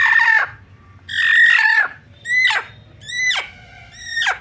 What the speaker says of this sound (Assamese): এইটা মুৰ্গী